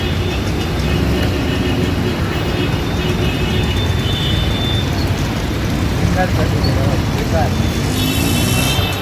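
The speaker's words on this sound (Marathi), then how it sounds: "नाही बघा इथे ट्रॅफिक लागली आले आहे." Steady, dense road traffic hums and rumbles without a break on a busy street, with a constant wash of engine and tyre noise and a faint high whine near the end.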